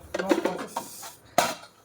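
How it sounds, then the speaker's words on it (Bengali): A wok is set down on a stove with a few close metallic clanks, a short burst of clatter first and then a single sharp knock a second later. "আরে এই কড়াইটা বসা"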